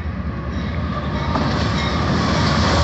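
A BNSF freight train led by locomotive 740 with an ATSF Warbonnet unit rolls past close by, a loud steady rumble with clattering wheels throughout.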